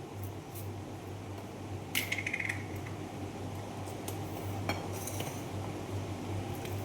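Urad dal batter, mixed with salt, fenugreek, fennel and asafoetida for doi bora, is beaten steadily in a bowl. It makes a soft continuous churn with a few light metallic clinks against the bowl, and no one speaks.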